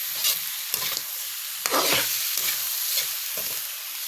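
Strips of cow skin are turned in a frying pan, with repeated scraping stirs over a steady background sizzle, six or so strokes spaced about half a second to a second apart, close and clear, no voices.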